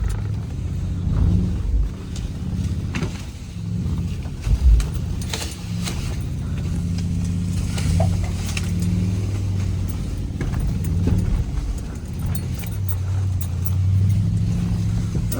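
A Land Rover Range Rover L322 engine rumbles loud and steady, its revs swelling and easing throughout, with rattling and knocking mixed into the drone.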